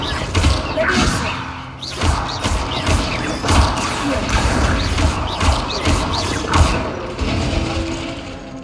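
Leviosa levitation spell cast in the video game Hogwarts Legacy: a run of clanking, thumping magical effects with mechanical rattles and whooshes that repeat in quick bursts, loud and close.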